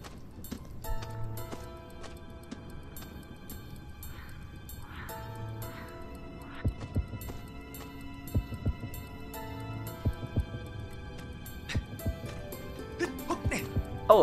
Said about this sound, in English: a freaking heartbeat